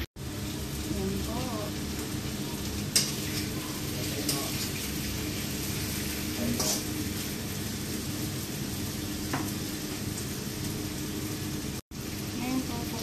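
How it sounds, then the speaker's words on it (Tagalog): Carrots and potatoes frying in a pan for chicken afritada give off a continuous, close hiss and crackle, with a voice talking over it at times. "Ipapry lang po natin ng konti yung carrots at saka patatas."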